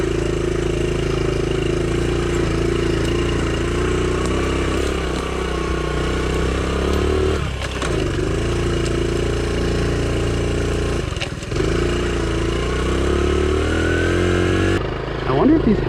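A small Honda Trail CT70 motorcycle engine runs steadily on a woodland trail, a loud, continuous buzzing drone with slight shifts in pitch and a few brief dips near the end.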